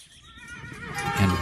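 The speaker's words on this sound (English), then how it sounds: "Loaded it onto his horse cart," A horse neighs in one drawn-out whinny, loud and close, with a hint of hoof clip-clop beneath it, as though it is pulling a cart.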